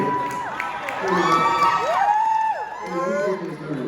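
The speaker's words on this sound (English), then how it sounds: "Let's make some noise if you like it" An audience at a poetry and K-pop showcase cheers, whoops and shouts steadily for nearly four seconds, with a host's voice talking over the crowd noise at a lively, sustained level.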